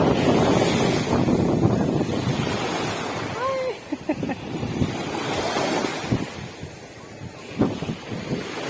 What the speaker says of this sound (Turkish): sizlerle birlikte denize girelim arkadaşlar